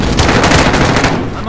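Rapid, loud machine-gun fire from the video game Call of Duty: Modern Warfare, dense bursts of shots in quick succession lasting the whole short moment.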